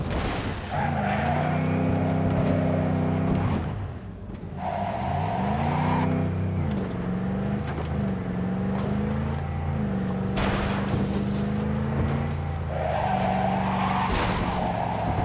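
A stolen car in Cyberpunk 2077 drives with a steady engine drone, its pitch rising and falling through gear changes, while tyres squeal and skid in long bursts across the whole stretch.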